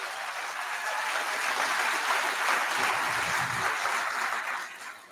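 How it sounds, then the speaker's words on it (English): Sustained applause from an audience at an evening community event honouring 140 volunteers, a steady broadband clapping wash held at even loudness for about five seconds before tapering at the end. "Let's give them a big round of applause."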